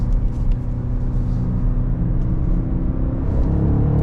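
A BMW X5 M50i V8 engine pulls hard in third gear, a loud, steady low rumble and growl building continuously for a few seconds inside the cabin.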